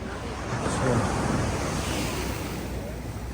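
Wind and surf along the Marine Drive seafront in Mumbai, a steady broad rush of waves and breeze that swells slightly near the start, close and continuous with no talk.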